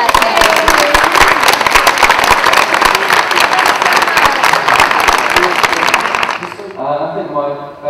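Convention Q&A audience at Dragon Con gives loud, dense encore clapping for cast members, sustained for several seconds before fading as a voice begins speaking.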